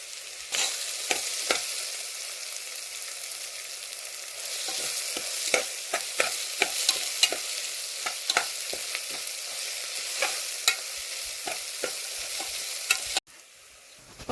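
Onions sauté in hot oil in a pan for kadala curry, a steady close sizzle broken by repeated scraping stirs, then cut off abruptly near the end.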